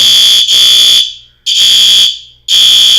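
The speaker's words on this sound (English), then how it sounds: "my fire alarm's just going off." A home fire alarm blares loudly and close in a piercing, high electronic tone, sounding in long bursts of about a second with short silent gaps between them, with no talking.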